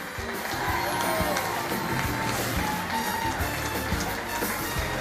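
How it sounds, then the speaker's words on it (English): An audience at a charity Stars In Their Eyes show applauds and cheers continuously, a dense wash of clapping with whoops and crowd noise throughout. "And keep the applause going for Nigel Burns."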